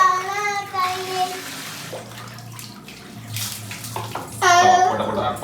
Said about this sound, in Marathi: लहान बाळाची आंघोळ चालू आहे मित्रांनो.